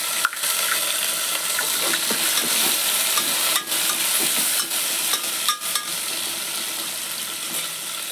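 Onions and tomato pieces frying in a pan with curry leaves and chilies, a bright steady sizzle with repeated scraping and clinking of a spoon stirring, no talk.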